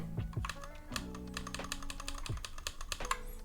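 Computer keyboard keys tapped in a quick, irregular burst during a Next.js and Tailwind CSS setup, close and fairly loud, with no voice.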